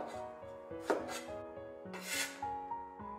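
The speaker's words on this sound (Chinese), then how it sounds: "然后改刀切成滚刀块。 一定要将茄子切得均匀一点" A kitchen knife chops an eggplant into even rolling-cut chunks on a board, with a handful of crisp, irregular thuds and scrapes, fairly quiet and close, with no speech.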